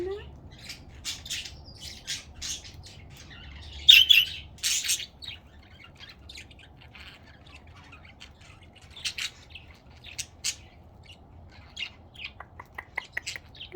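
A pet budgie chirps and squawks in scattered bright bursts, with a sharp louder squawk early on and a quick run of chirps near the end, all over a quiet low background.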